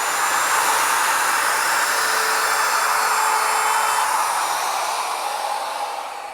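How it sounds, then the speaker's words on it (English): A router fitted with a 1/4 inch round over bit rounds over the face-side edges of an old pine dry sink, giving a steady, loud high-pitched whine and rush that holds evenly throughout, easing slightly at the end. "I want to round those over using a 1/4 inch round over bit."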